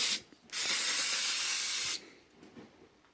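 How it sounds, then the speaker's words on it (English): Brake cleaner sprays onto a brake caliper of a Vauxhall Opel Insignia in a loud, steady hiss lasting about a second and a half, preceded by a short spurt and followed by faint dripping and handling noises. "give it a really good spray with brake cleaner to degrease it"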